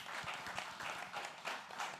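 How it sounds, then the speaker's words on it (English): Audience applause for a panelist at a music industry panel on royalties and sync licensing, a brief steady round of clapping from a crowd at moderate distance, with no one talking. "Round of applause."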